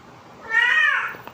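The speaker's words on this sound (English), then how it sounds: "I'm sorry, my cat's gonna do that." A single drawn-out meow from a pet cat close to a livestream microphone, rising and falling over about half a second, with quiet room tone around it.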